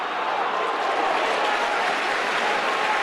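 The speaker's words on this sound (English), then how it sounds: "Listen to that crowd" A rugby league stadium crowd at a Warrington versus Wigan match roars and cheers steadily as a player breaks away, a dense, continuous wash of noise that stays loud throughout.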